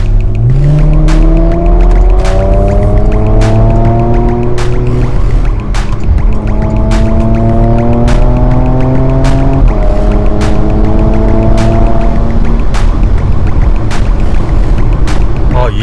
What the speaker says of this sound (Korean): 지금 이게 배기 옵션이 들어가 있는 막간 GTS거든요 소리도 한번 느껴보도록 하겠습니다